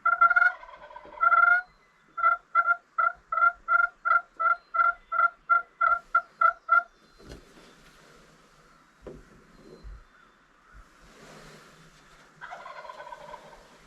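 A wild turkey gobbles loudly twice at the start, then a fast series of about fourteen even, rapid clucks follows, with scratching and rustling noises in the woods afterward and another gobble near the end.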